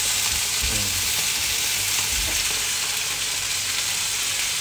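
Kangkong and onion leaves stir-fry in a pan, a close, constant sizzle and crackle with faint stirring thumps underneath and no speech.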